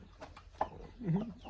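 Chickens cluck nearby in short, scattered bursts, with one louder cluck near the end, over faint background noise and some murmuring voices.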